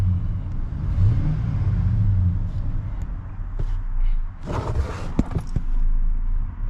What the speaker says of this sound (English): the truck runs great